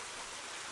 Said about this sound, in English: The gentleness of flowing water.